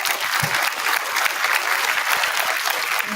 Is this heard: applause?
yes